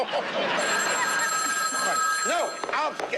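An old-fashioned telephone bell rings steadily with a bright metallic tone, heard clearly at a moderate distance under lively talk and laughter from several people.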